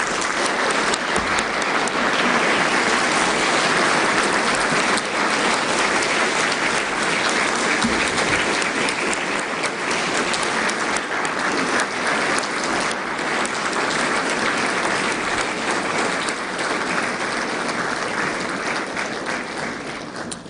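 Sustained loud applause from a large graduation ceremony audience at Aston University, dense and continuous throughout, fading slightly near the end.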